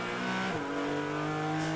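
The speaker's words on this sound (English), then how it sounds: "hard to beat that Ford Mustang 5-liter engine in Jeff Lindstrom's car." A Ford Mustang race car with a 5-liter engine at a road-course race meeting gives a loud, sustained engine roar that drops in pitch briefly partway through, then holds steady.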